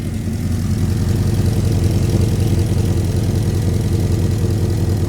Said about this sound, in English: All right, so I let it idle for a little bit.